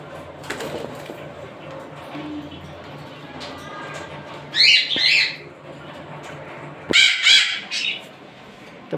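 A breeding pair of pet birds in a cage letting out two bursts of shrill, harsh squawking calls, close by, over a low background of indoor noise and faint talk.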